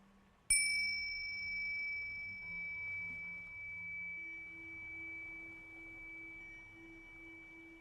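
A single meditation chime struck once near the start, its bright tone ringing out cleanly and slowly decaying over several seconds in an otherwise quiet setting.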